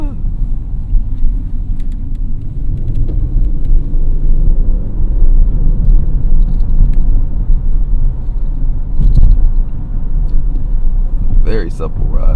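A 2022 Audi RS7 rolls along a rough winter road in Michigan with a deep, loud, continuous engine and road rumble heard from inside the cabin, and a person talking over it.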